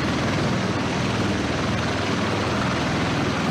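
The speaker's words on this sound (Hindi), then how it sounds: "पाकिस्तान में इसको तियारा कहते हैं हेलीकॉप्टर।" A helicopter brings the US president to the G7 summit in Canada, its loud, steady rotor thrum and engine whine filling the whole span without any voices.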